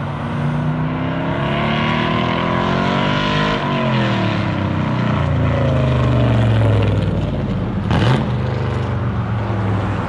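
An LS-swapped Chevy Luv truck out on a test drive, its V8 droning loud and close as it shifts through rising and falling revs, with a sharp burst near the end and no talk.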